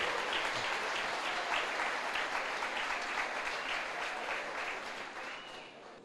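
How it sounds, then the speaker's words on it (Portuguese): Church congregation applauding loudly and steadily, a dense wash of many hands clapping that holds for several seconds before gently tapering off, with no voice over it. "Uma grande salva de palmas para o Senhor."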